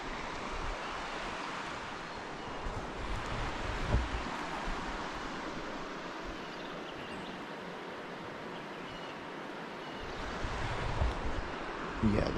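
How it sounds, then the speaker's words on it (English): River water flows over rocks at Long Pool in Arkansas, a steady broad rush with gentle swells, fairly faint and heard alone. "just walking along the rocks and listening to the water"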